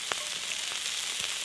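Cheese sizzles and fries in a pan over a campfire, a steady close crackle with a few brief pops, no talking.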